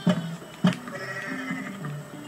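Goats in Goat Simulator give two sharp, close bleats, followed by wavering tonal game sounds.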